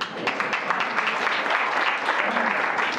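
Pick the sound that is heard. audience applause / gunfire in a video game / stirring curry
audience applause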